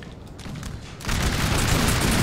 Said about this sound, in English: I hear artillery. Yes, there's artillery there.